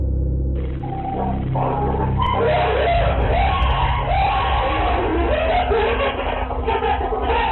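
Cleaners scream inside a hoarder's house: several loud overlapping yells and shrieks build from a rough noisy background and keep going.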